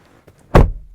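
From inside a 2021 GMC Yukon Denali diesel SUV, a door shuts with one deep, solid thunk after faint handle clicks, close and muffled by the cabin.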